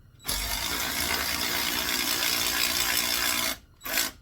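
A cordless ratchet whirs in one continuous mechanical burst of about three seconds, then gives a short second burst after a brief pause, close and fairly loud.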